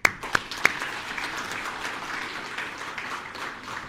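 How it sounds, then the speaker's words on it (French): Applause from an audience at a certificate ceremony for young trainees in Mauritius, beginning with a few sharp, close claps and then settling into steady, moderate clapping from a crowd. "Applaudissez."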